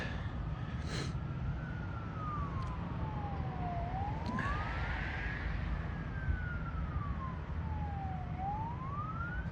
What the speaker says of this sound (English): So I hear sirens going, probably some bad accident on the main highways